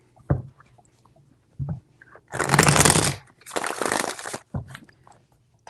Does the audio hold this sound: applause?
no